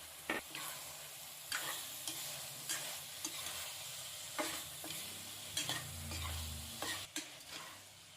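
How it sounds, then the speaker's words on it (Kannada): Ground masala for soya biryani stirred and fried in a pan, a steady sizzle broken by repeated scraping strokes of a spoon at irregular intervals, close and moderately loud with no talking. "ಇದು ಮಸಾಲಾನ ಇದ್ರೊಳಗಡೆ ಹಾಕೊಂಡು ಈಗ ಚೆನ್ನಾಗಿ ಫ್ರೈ ಮಾಡ್ಕೊಬಿಡೋಣ."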